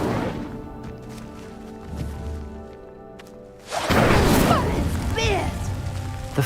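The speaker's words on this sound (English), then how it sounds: "The flames make the pyre sink." Incendio fire spell igniting a pyre in Hogwarts Legacy, a low rumble followed by a sudden loud whooshing burst of roaring flame that keeps crackling, with game voices and music beneath.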